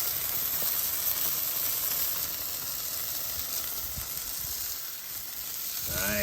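Beef tallow injected chicken wings sizzle on an Oklahoma Joe's Judge grill, a close, constant crackling hiss of fat frying that holds steady throughout.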